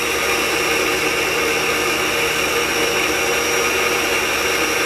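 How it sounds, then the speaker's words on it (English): Electric mixer churning cream into organic butter, a steady loud whir that runs on without a break, with no talking. "you just keep doing this until the butter forms and it's going to actually get stuck in the"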